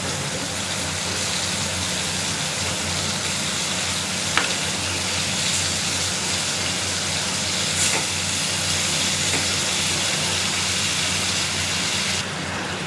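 Whole loita fish frying in a pan with garlic paste, a steady loud broadband sizzle and hiss running throughout with a few brief sharper crackles.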